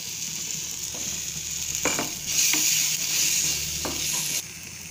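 Ginger garlic paste frying in oil for onion kachori stuffing, a steady sizzle with a few sharp stirring scrapes of a spoon against the pan, no voices.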